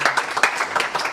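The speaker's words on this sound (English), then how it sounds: "Everybody give a round of applause to Silke." A brief burst of audience applause for a speaker at a quantum physics research talk, with uneven individual claps from a modest crowd, fairly close and loud.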